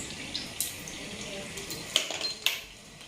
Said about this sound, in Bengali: জল পড়ছে